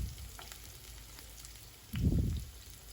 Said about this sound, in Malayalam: ഒരു മീഡിയം സൈസിലുള്ള സവാള നീളത്തിൽ തടി കുറച്ച് നേരിയതായിട്ട് കട്ട് ചെയ്ത് ഇട്ട് കൊടുക്കുക.